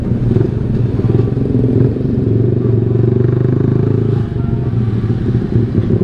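A 2020 Yamaha R15 V3 sport motorcycle being ridden, its engine giving a loud, steady, close drone with a slight rattle throughout, and no voices.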